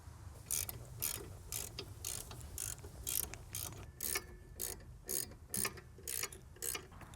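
A ratchet wrench clicks in steady bursts while tightening the rear brake caliper bracket on a Lexus ES300 during a brake pad and rotor job, with crisp, close repeated clicks in an even rhythm and no talking.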